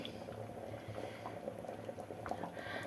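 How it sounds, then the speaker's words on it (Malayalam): A pot of thick curry bubbles and boils steadily, soft popping and gurgling close by, fairly quiet, with no voices. "ഇപ്പം നന്നായിട്ട് തിളയ്ക്കാൻ തുടങ്ങി"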